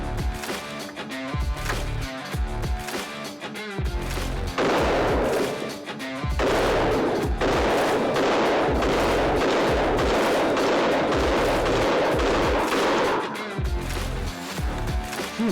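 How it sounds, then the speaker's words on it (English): A .308 Winchester rifle fires a 20-round magazine of FMJ ammunition outdoors, a long run of loud, sharp shots in quick succession with echoing reports between them. "So here's a video of me just shooting 20 rounds of normal FMJ ammo."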